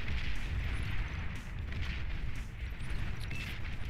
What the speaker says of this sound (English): you've got a bunch of tanks literally artillerying you as you speak